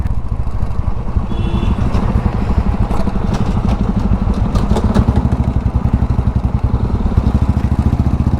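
A new 2025 Jawa 42 Bobber motorcycle in red sheen runs steadily close by, its engine idling with a dense, even thumping pulse for the whole stretch and no voices over it.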